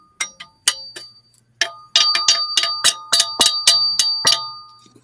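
Sharp metallic dings from a piece of aluminum held right up against a microphone, a few spaced strikes at first and then a rapid run of ringing, overlapping hits.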